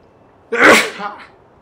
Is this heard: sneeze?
yes